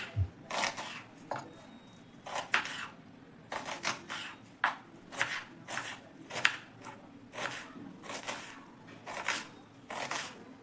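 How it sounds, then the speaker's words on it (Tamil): A knife finely chops an onion on a board in quick repeated strokes, crisp and close, with brief pauses and no talking. "இந்த வெங்காயத்தையும் பொடியாக நறுக்கிக்குவோம்."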